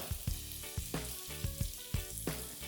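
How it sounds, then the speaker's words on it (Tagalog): Garlic frying in a pan for beef and broccoli, a steady close sizzle punctuated by regular sharp clacks of a utensil stirring against the pan. "Pagkalagay ng bawang, niluluto ko lang to ng mga 30 seconds"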